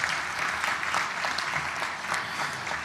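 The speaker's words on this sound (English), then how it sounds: "Big round of applause for our board and our supervisory committee" Applause for a credit union's board and supervisory committee at an annual meeting, dense steady clapping from a large audience filling the room for a few seconds.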